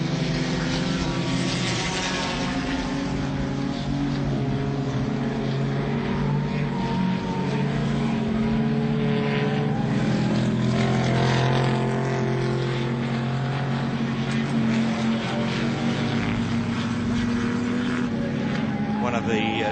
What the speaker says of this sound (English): One of the several Toranas in the team, Peter Brock, Colin Bond and the Holden Dillard team Torana